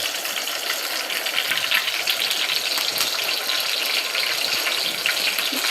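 Green chillies sizzle in two tablespoons of hot oil for upma, a steady, dense crackling hiss that holds at an even level throughout.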